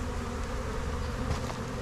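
Honeybees moved from a swarm box into a deep hive with frames buzz in a steady, dense hum that stays loud and even for the whole short stretch, with no voices.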